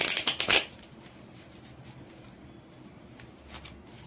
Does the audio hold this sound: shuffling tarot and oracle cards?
yes